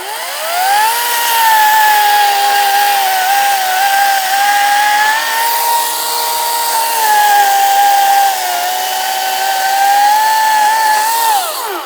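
An Ego 56-volt battery chainsaw cuts through a dead tree, giving a loud, steady high-pitched electric whine that holds nearly constant for about twelve seconds, with slight pitch dips as the chain bites into the wood.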